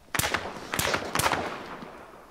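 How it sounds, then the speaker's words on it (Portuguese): Several sharp gunshots in the ArmA 3 game, three main reports spaced about half a second apart with reverberant tails, moderately loud and alone. "eu ouvi o tiro da direita"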